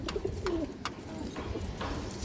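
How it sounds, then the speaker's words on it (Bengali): A male Rampuri Pakistani high-flyer pigeon coos softly and close, a few low rolling calls spaced across the moment with faint background rustle and no talking. "খুব সুন্দর একটা কবুতর"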